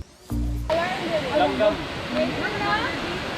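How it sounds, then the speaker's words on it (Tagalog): Waterfall at Katihan Eco Park, a steady broadband rush of falling water heard close and continuous after a brief low hum at the start, with voices talking over it. "Nara ang falls."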